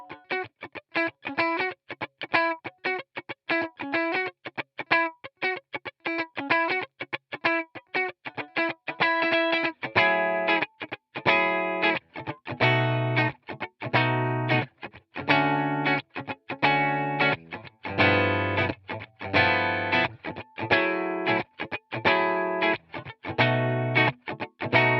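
Fender Vintera Telecaster electric guitar played through a bright, punchy pickup: a run of crisp, clipped single notes gives way to rhythmic chopped chords, loud and close with no talking.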